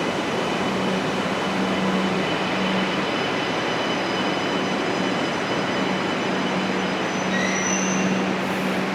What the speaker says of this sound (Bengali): এই হচ্ছে ট্রেন স্টেশন, অলরেডি একটা ট্রেন এসছে।